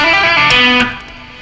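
A distorted electric guitar runs down a rock scale pattern at a slow tempo, several quick notes with hammer-ons and pull-offs ringing loudly before fading into a softer tail; no speech.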